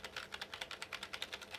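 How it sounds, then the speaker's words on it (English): Keys pressed on a computer keyboard shared between a Windows PC and Samsung DeX, a quick even run of about a dozen soft clicky taps, close and quiet. "I'm gonna press the same keys."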